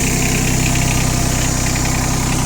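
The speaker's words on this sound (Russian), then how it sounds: "Хоть и холодный трактор, то есть совсем еще не прогрелся. Только запустили." A Yanmar F155 mini tractor engine, cold and just started, idles loudly and steadily nearby with an even, rapid rhythmic chugging.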